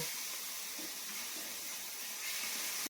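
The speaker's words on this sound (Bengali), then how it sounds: "দিয়ে মশলাটাকে ভালো করে একটু কি করব, কষিয়ে নেব" Spice masala fries in oil for a chicken chop, giving a steady hissing sizzle at a low, even level with faint soft bubbling, no voices, cutting off sharply at the end.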